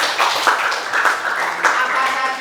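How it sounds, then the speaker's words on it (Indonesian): A group claps together in a classroom during a teacher-training lesson at UIN Salatiga. Steady, fairly loud clapping runs for a couple of seconds with voices mixed in. "Tepuk tangan."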